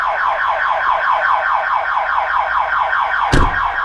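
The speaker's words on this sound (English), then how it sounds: "I cannot, for the life of me, get the alarm to turn off." A Ford car's malfunctioning security alarm wails in a steady, repeating warble, loud and close, cut by a brief sharp click near the end.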